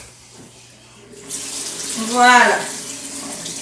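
Tap water runs into a sink while rice is washed for an African fish dish, a steady broadband rush starting partway in, with a short voice speaking over it.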